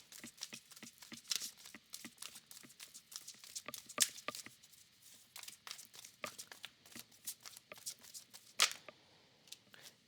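Tarot answer cards shuffled and pulled from a deck, giving a soft run of crisp riffling and slapping card sounds with sharper snaps, close and quiet, with no talk.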